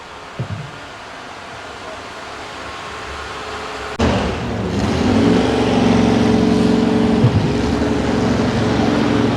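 A modified pulling tractor named Piston revs at a Clay County Fair tractor pull in Barnesville, Minnesota, its engine rising sharply into a loud, sustained roar after a quieter idle.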